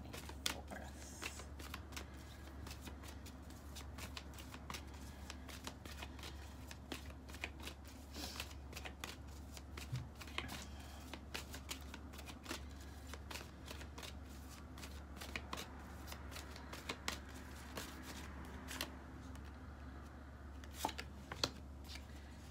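Tarot cards are shuffled by hand in a steady stream of soft riffling and flicking, close and fairly quiet, continuing for the whole stretch with no talking.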